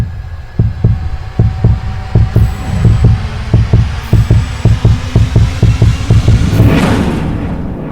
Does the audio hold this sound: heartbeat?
yes